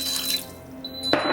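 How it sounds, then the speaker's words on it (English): Water is added to an Instant Pot where chopped carrots are sautéing for split pea soup. A faint background hum is followed by a brief, close splash of pouring near the end. "And then I'm just going to add a little bit more water"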